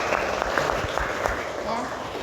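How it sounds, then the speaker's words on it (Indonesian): Students clap for a classmate named Alika in a classroom during a teacher's practical teaching exam, brief scattered applause with sharp individual claps. Voices murmur beneath the clapping. "Ya, tepuk tangan untuk Alika."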